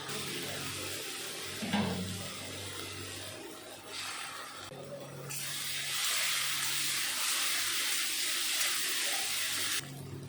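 Water pours into a pan of sizzling spice paste for a cauliflower fish curry, a loud rushing hiss that swells and holds for several seconds before cutting off, with faint scraping beforehand.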